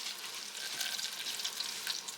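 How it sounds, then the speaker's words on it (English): Butter melts in a hot pan while cooking a ham casserole, producing a steady, fine crackling sizzle that stays soft and continuous throughout without any talking. "Now my butter is melting right here."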